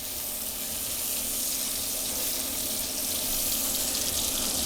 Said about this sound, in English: we're going to start off by sauteing some shallots that I have diced quite finely in the bacon fat